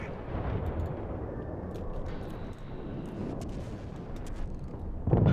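Naval guns firing in the video game World of Warships, a dense, continuous rumble of booming artillery and explosions with a louder blast near the end.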